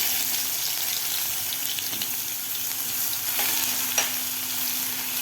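Coarsely crushed garlic frying in a pan with a pinch of asafoetida for a dry brinjal dish, giving a steady, dense sizzle with a few small clicks, close and continuous.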